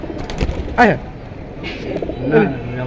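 A pair of large pigeons of a Beji line coos in two low, throaty bursts beneath a man's nearby speech.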